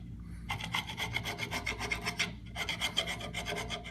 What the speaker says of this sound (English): Then you must clean the residual glue.